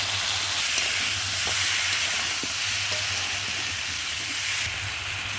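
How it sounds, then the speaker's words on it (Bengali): Potatoes frying with ginger-cumin paste, chilli powder and coriander powder, a continuous hiss of sizzling oil with a low steady hum beneath and occasional scrapes of stirring. "এই মশলা দিয়ে কষিয়ে নেব।"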